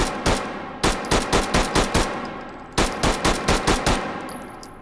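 A SIG P226 pistol fires in the VR shooting game H3VR in two quick bursts of about six or seven sharp, evenly spaced shots each, separated by a short pause, loud and close with no speech.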